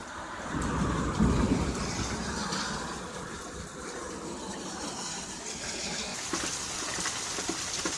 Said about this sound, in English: And you see, it's picked up rain really good here.